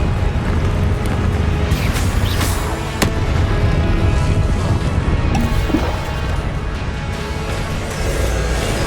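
Fiery spell blasts and explosive impacts from Incendio and Confringo in the Hogwarts Legacy video game, a dense, loud stream of crackling bursts and crashes with a few sharp hits standing out, no voices.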